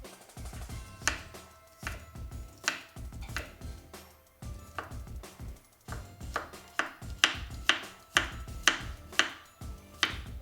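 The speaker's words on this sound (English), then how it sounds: "Go ahead and mince up this garlic." Knife mincing fresh garlic on a cutting board: quick close chops in short uneven bursts, speeding into a brisk rhythmic run of taps toward the end, with no talking.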